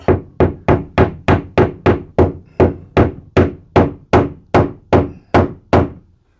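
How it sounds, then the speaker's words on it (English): A hammer taps a drywall anchor into a wall more than a dozen times in a steady, even rhythm, each blow a sharp close knock that rings briefly. "sometimes you do have to use a little persuasion with a hammer"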